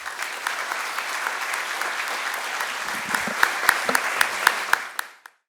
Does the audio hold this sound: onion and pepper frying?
no